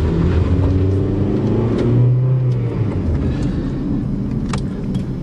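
A Honda Civic engine runs steadily after a timing belt change, a continuous mid-low hum with some shifting tones, fairly loud and close, outdoors in snowy conditions, with no talking.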